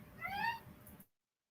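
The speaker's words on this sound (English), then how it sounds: "I tried to mute it at the perfect time, but my cat's crying" A Maine Coon cat indoors lets out a single drawn-out, rising-and-falling meow, fairly close and clear, that cuts off abruptly.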